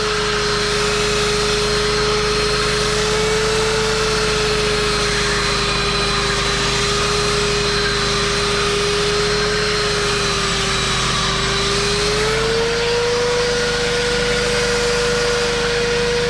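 A belt sander runs on oak wood, holding a steady droning motor whine with a faint pitch shift near the end. The sound is loud and continuous, with no voices.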